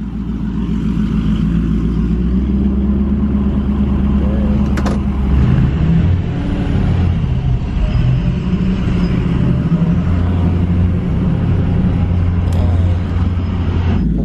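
Supercharged truck engine with Kenny Bell parts running nearby, a loud, steady, deep rumbling idle with slight pulses in intensity, and a few faint voices under it.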